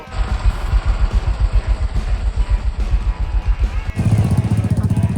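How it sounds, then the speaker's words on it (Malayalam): Motorcycle engines at a beach bike race in Puthuvype, Vypin, a loud close pulsing engine roar with revving and clatter, shifting to a harsher buzzing tone near the end while people talk over it. "ഇവിടെ ഇന്ന് ബൈക്ക് റേസ് നടക്കുകയാണ്"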